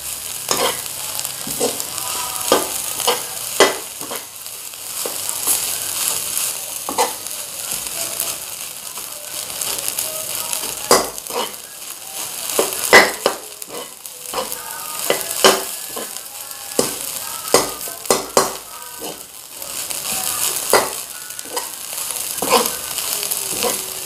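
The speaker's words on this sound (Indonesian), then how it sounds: "Harum banget, kita aduk ya sampai benar-benar tercampur rata." Rice stirred with oncom and scallions in a frying pan for nasi tutug oncom, repeated scraping and clinking strokes over a soft steady sizzle, fairly close and without talk.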